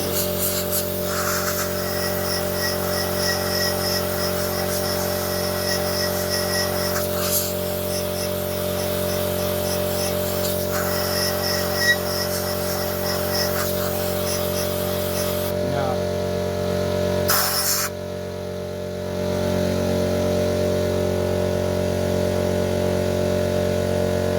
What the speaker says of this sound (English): Compressor. Oh, it's a bit of a racket.